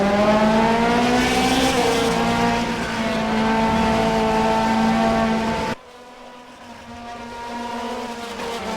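DTM touring race cars at the Sachsenring, among them a yellow BMW, hold a loud sustained engine drone with harmonic whine. The roar dips sharply partway through, then builds again as the cars pass.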